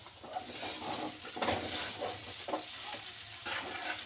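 Sago pearls with a pinch of salt being stirred and roasted in a non-stick pan: a close, continuous dry sizzle broken by repeated scraping strokes of the spatula, with no voices.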